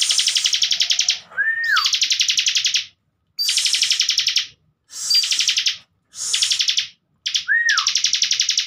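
A caged bar-winged prinia of the Bren variety sings loud, high buzzing trills in repeated bursts separated by short pauses, some phrases ending in a sliding whistle, close and alone.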